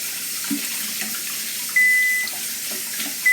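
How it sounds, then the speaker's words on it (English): Water runs steadily from a kitchen tap as hands are rinsed under it while baking shortbread, a continuous close splashing hiss with a brief faint beep partway through. "So let me just wash my hands real quick."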